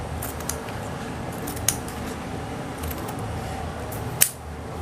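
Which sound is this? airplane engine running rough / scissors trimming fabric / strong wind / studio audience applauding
scissors trimming fabric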